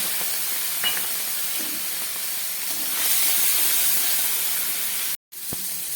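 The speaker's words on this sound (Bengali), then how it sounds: "এই তেলের মধ্যে আমি চিংড়ি মাছটা ভেজে নিচ্ছি" Prawns frying in hot oil in a wok, giving a loud continuous hissing sizzle that swells slightly midway, close up with no voices, ending in a brief cutoff and a single small knock.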